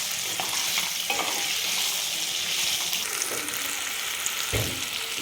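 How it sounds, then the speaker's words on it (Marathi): Cabbage and peas fry over low gas, a steady soft sizzle with gentle stirring and occasional scrapes and taps of a spoon against the pan. "मंद गॅसवर आपल्याला 2 ते 3 मिनिट चांगलं फ्राय करून घ्यायचं आहे."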